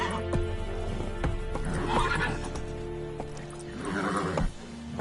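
Roach, Geralt's horse in The Witcher on PS5, gives two loud whinnies over rapid galloping hoofbeats, with a constant tonal in-game background hum beneath.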